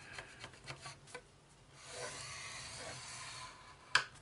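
A scoring tool rubs and scrapes along cardstock for a slide-up gift card holder, a quiet close rasp in a few strokes ending in a small tap.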